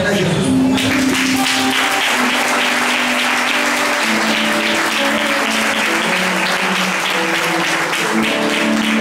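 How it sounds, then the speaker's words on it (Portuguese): A church congregation applauds loudly and continuously, a dense sustained roar of clapping with sustained tones ringing through it, filling the room close and full from just after the start. "Esses homens de Deus e essa mulher de Deus aplaudindo a Jesus muito."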